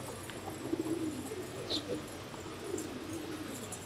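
Pigeons in a loft coo softly in low, rolling bursts, faint and somewhat distant, with no voices over them.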